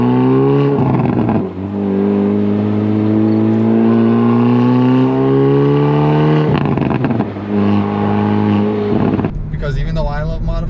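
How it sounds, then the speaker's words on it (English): A Hyundai Veloster N's stock exhaust revs loudly and steadily, its pitch rising and falling through several throttle swells, close to the tailpipe with no talking. "you're going to get this beautiful exhaust sound from the back without actually modifying"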